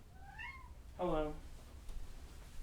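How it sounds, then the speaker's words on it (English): A house cat meows twice in quick succession, a short rising cry then a louder, fuller meow, close by in a quiet room. "My cat is so annoying."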